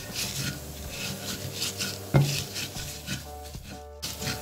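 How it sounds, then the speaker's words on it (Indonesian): Pecel spice paste with kaffir lime leaves and salt being ground in a stone mortar with a pestle, a steady close rasping and rubbing with a sharper knock partway through. "Dan ini kita ulek sampai halus."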